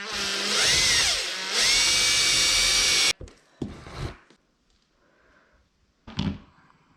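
A power drill drilling into a polyethylene softboard surfboard whines loudly for a few seconds, pauses, whirs again, then cuts off, followed by a few short clunks and a brief burst.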